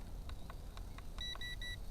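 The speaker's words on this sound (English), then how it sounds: "3 beeps" A small SS360 stunt drone emits three short, clear electronic beeps in quick succession, evenly spaced near the end, over a steady background hum with faint clicks earlier.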